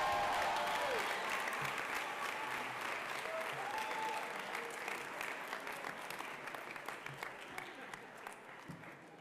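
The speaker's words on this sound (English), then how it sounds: "Please give a round of applause once again to the class of 2022." Audience at a high school graduation ceremony applauding the class of 2022, a sustained wash of clapping from a large crowd that gradually thins and fades toward the end.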